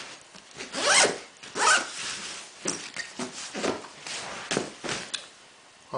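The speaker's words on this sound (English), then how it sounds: "And zip it up." A Patagonia Headway MLC travel backpack being zipped closed, with several quick rasping zipper pulls and rubbing fabric sounds close up, no talking.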